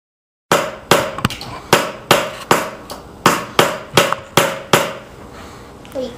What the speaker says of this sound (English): we'll be back after you start hammering